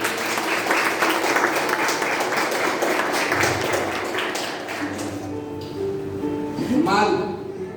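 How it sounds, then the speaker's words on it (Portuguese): Church congregation applauds during a Portuguese-language celebration worship service, a dense patter of clapping that fades after about five seconds, with voices and a rising sung or spoken tone near the end. "Dê um aplauso"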